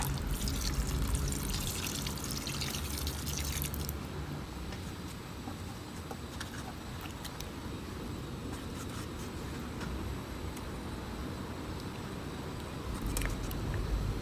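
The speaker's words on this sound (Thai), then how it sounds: "แล้วก็ตามด้วยหางกะทิค่ะ ถ้าหางกะทิไม่พอนะคะ ให้เราใส่เป็นน้ำเปล่าลงไปได้ค่ะ" Thin coconut milk pours into a pot of Thai green curry with featherback fish, giving a steady, fairly soft trickling wash that runs continuously for about fourteen seconds with no voices.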